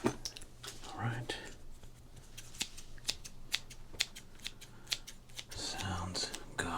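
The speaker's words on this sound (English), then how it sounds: "why a nutball is about to cut up a baseball card" Close, quiet snips of scissors cut through a baseball card in a steady series, with soft rustling and faint whispered talk between them.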